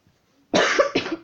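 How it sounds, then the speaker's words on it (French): A single harsh cough bursts out after a brief quiet, followed by a second shorter cough, close and loud. "Excusez-moi si je tousse."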